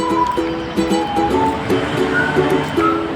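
Steady downpour of heavy rain in Taiwan beside a high river, a continuous close wash of broadband hiss with a soft wavering tone layered underneath.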